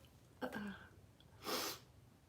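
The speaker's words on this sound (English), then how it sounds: "Ooh, gonna sneeze" A quick intake of breath is followed by a single sharp sneeze, close and clear, in an otherwise quiet room.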